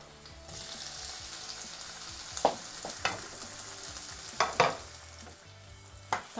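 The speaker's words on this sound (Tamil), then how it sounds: "தக்காளி நல்லா வதங்கட்டும்." Chopped tomatoes sautéing in a pan for a sardine fish curry, a continuous sizzle punctuated by several sharp scrapes and knocks of a spoon stirring against the pan.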